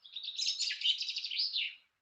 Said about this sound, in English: the thing to listen with a song thrush is that variety in all the different noises that it makes